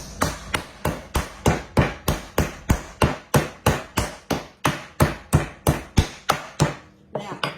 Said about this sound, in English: With the flattener side, you're just gonna pound it down till it's about 1/4 inch thick.